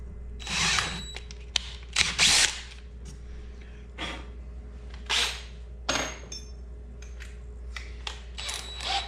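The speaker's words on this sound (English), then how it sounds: "once that drill bit grabs, it will try to suck it on down into that pipe" A power drill runs in short, uneven bursts with pauses between, easing a bit into PVC pipe to bore a 5/16-inch hole. Close but fairly quiet.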